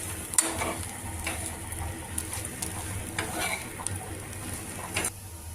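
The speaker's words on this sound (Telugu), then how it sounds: "ఇది కూడాను కొద్దిగా పచ్చివాసన పోయే వరకు ఫ్రై చేసుకోవాలి శనగపిండి" Green beans fried with gram flour in a pan give a steady close sizzle, broken by repeated scraping and stirring strokes of a spatula against the metal, with no voices.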